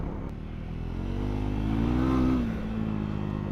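A Triumph Scrambler 400X single-cylinder motorcycle on an on- and off-road test ride in Texas, engine droning steadily then rising in a brief rev before settling back, with wind rush and no talk.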